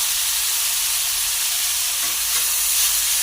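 Marinated mixture hitting hot oil in a pan gives a steady, close, broadband sizzle that holds evenly throughout with a slight swell near the end, no voices.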